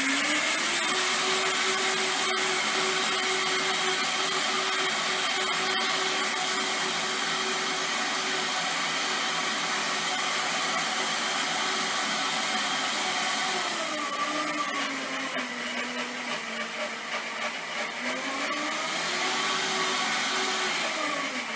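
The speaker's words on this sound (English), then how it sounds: "Put it in your blender." A Vitamix blender runs continuously on vinegar and horseradish, a loud steady motor whine whose pitch dips and rises as the speed shifts near the end, no talk.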